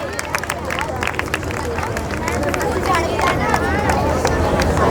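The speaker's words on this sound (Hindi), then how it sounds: "जोरदार तालियों से बेटा इन बच्चों का प्रोत्साहन कीजिए" An audience at an alumni meet prize-giving claps enthusiastically amid a babble of voices, the sustained applause continuing under the chatter.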